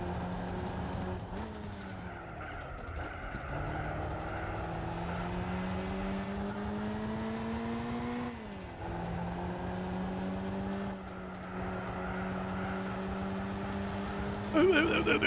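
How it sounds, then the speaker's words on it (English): Lotus Europa engine revving in the racing game Gran Turismo 4, a loud continuous drone that climbs and drops with gear changes, with tire squeal near the end. "I love how fucking stupid this car sounds."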